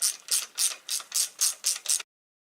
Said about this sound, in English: So I'm just going to tighten up these bolts.